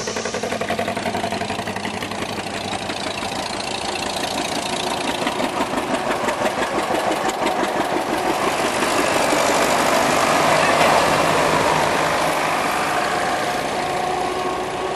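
An antique Case 430 tractor engine runs steadily and loudly throughout at a tractor parade, a low chugging rumble with a knocking rhythm and no voices.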